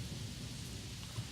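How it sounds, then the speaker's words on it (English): Rain falls steadily outside with a low rumble of thunder, heard faintly from indoors as a soft continuous wash with a deep undertone. "the rain has arrived as well as some of the thunder"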